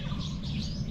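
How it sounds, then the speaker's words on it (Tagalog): Faint bird chirps over a low rumbling outdoor background, brief and distant. "maririnig mo dito guys yung tunog ng mga ibon"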